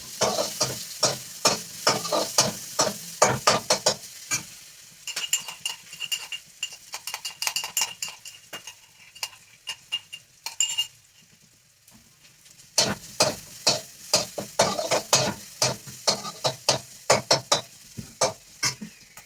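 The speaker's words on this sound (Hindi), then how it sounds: "और ये अदरक मैं इतना डाल देती हूँ, 1 इंच। हम पकाते हैं।" Chopped ginger, about an inch's worth, sizzles and fries in a hot pan in a home kitchen while a utensil stirs it with rapid, repeated scraping strokes, pausing midway before the stirring resumes loud and close.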